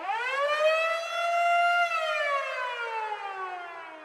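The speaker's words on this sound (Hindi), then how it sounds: "वो सायरन जो शायद कोई भी सेलर अपनी सर्विस में सुनना ही नहीं चाहता।" A single siren wails loud and clear, holding a high rising tone before sliding slowly downward as it winds down, heard alone.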